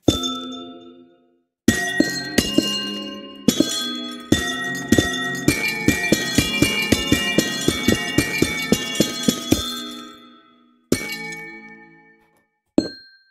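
Glass blocks shatter in Minecraft, first as a few separate crashes with ringing tails, then as a fast run of many clinking breaks, followed by two more isolated smashes, loud and close with no talk.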